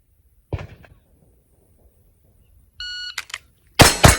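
Pistol shots from an STI DVC Open gun drawn from a holster: one sharp loud report, then a timer beep, and a second blast near the end, each crisp and close with short decay.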